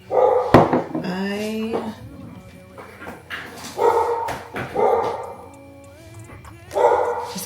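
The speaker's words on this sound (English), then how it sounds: "pardon my doggy, y'all. He was barking away." A small dog barks indoors in several sharp, close bursts with whining and yips between them, while someone talks over and around the barking.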